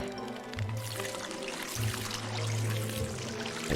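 Crops are watered in the survival game Don't Starve Together: a continuous pouring, splashing stream of liquid with a low rhythmic hum beneath, fairly loud and unbroken throughout.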